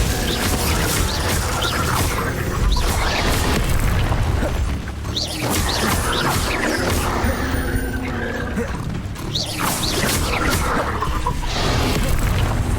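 Spell effects from the Hogwarts Legacy video game on Nintendo Switch, with Glacius and Confringo cast in combat, give loud continuous booms, crashes and whooshing bursts over a dense, busy game mix.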